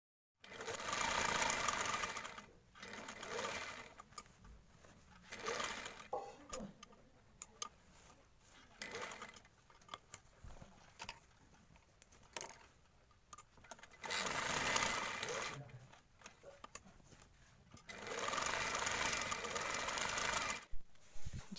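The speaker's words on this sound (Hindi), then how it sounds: "अब जो हमने लंबी पट्टियाँ काटी थी इस पर भी हम सिलाई लगा लेंगे, साइडों पे भी लगा लेंगे और एक दरमियान में भी" A sewing machine stitches polyester padding strips for a fabric roti cover, running in loud bursts of rapid even clatter separated by quieter pauses.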